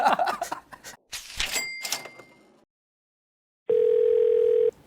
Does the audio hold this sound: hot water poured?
no